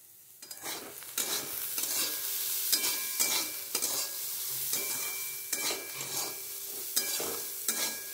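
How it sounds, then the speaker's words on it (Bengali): Bottle gourd peel being stirred with salt and turmeric in a pan, with a spoon scraping and turning it in repeated strokes over a soft, steady sizzle. The sound is close and moderately quiet, and nobody speaks. "লবণ আর হলুদ দিয়ে একটু নাড়াচাড়া করে দিয়েছি"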